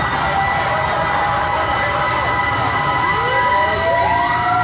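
Fire truck siren wailing as the truck arrives at a fire near a highway in Taguig, rising and falling tones over continuous loud traffic rumble.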